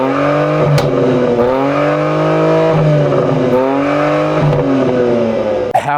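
A 2022 BMW X3 M Competition revs through its quad exhaust, a loud, close engine note climbing and falling in repeated throttle blips, with a sharp crackle right at the end.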